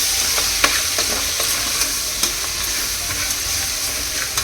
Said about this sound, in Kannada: ಎಲ್ಲವನ್ನು ಚೆನ್ನಾಗಿ ಫ್ರೈ ಮಾಡ್ಕೋಬೇಕು.